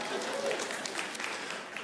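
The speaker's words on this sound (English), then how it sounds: "Y'all can applaud it if you want." Audience applause in a dense, steady wash of clapping that holds for about two seconds, with some voices mixed in.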